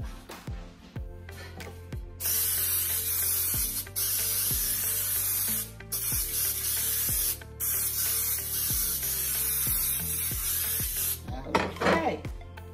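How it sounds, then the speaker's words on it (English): Cooking spray hisses from an aerosol can onto a bundt pan in a home kitchen, several long continuous bursts broken by short pauses, close and loud, with faint clicks and a person speaking at times. "You need to get your bundt pan and spray it."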